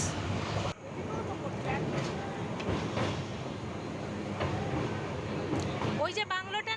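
Steady broadband rumble of a train in motion through tea gardens on the way to the Dooars, continuous and fairly loud throughout, with a brief drop near the start and a chirpy rising sound at the end.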